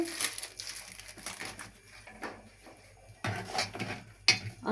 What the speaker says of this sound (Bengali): হালকা পরিমাণ আমি নাড়া দিয়ে দিয়ে একটু লবণ টেস্ট করে নেই